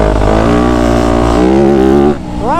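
A dirt bike engine, a Yamaha YZ250F, revs hard and steady for about two seconds as the rider pushes on, then briefly dips and climbs again in pitch, loud and close with no talk.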